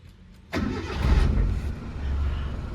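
A 2001 Suzuki Katana 4x4 fires on the first crank with a quick burst and settles into a steady, smooth low idle, heard nearby and alone.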